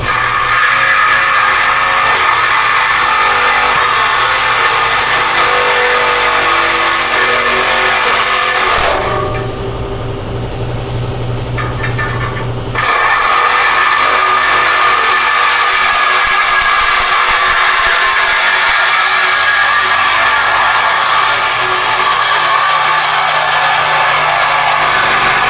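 A power tool cuts through a car's exhaust pipe with a loud, continuous grinding whine, pausing briefly partway through for a lower idling hum before the harsh cutting noise resumes and runs on without speech.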